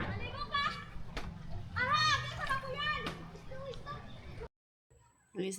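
Children play and bathe in the sea at high tide, their excited voices and shouts carrying from a moderate distance, with a short silent gap before they resume.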